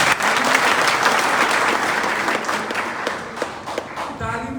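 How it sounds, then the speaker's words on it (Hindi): An audience at a political address bursts into loud, sustained applause that slowly tapers off, with a voice starting to speak as the clapping dies down. "ताली मेरे स्पीच में नहीं बजाइएगा"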